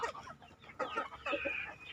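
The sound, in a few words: farmed chickens clucking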